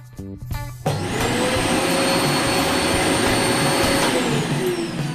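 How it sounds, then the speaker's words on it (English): An Amazonbasics 700W bagless cylinder vacuum cleaner with a HEPA filter starts up on a small round carpet, a sudden loud, steady whine and airflow roar that holds evenly after a brief moment of quieter sound. "I'm just wondering how loud this vacuum cleaner is."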